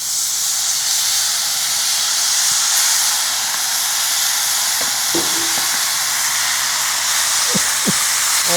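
Chicken sizzles on a hot Blackstone 17-inch griddle, a loud, steady broadband hiss and crackle that holds throughout, with a few faint clicks and taps of utensils near the end.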